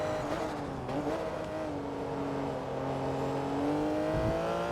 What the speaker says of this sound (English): I just love hearing the turbo spool up in this thing.